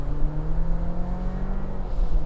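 A 2024 Chevrolet Colorado ZR2 Bison building boost at a steady, loud engine drone before a launch-control start off-road in Johnson Valley, with a low rumbling hum held through the short stretch.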